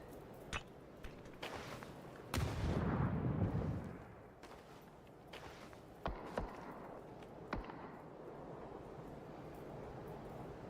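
Grenade blasts and gunfire in a PUBG grand finals match: a loud rumbling explosion around the middle, followed by scattered sharp distant shots over a low ambient background.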